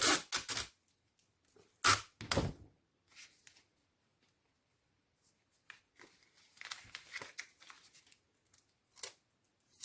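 Scissors snip off excess adhesive tape while a paper album is assembled, a few sharp close cuts early on followed by scattered paper rustling and light handling noises.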